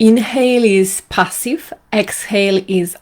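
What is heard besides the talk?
None of the usual background noises is heard.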